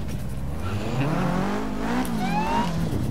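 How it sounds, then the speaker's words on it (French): A Ferrari racing past in Forza Horizon 3, loud close engine roar with rising and falling revs and a whine of tires through the pass. "La Ferrari, elle a fait un dépassement."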